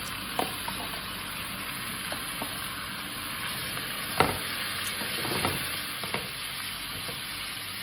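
Mutton frying in a pan with ginger garlic paste and cumin powder, a steady close sizzle with occasional louder spits and stirring knocks, no talking.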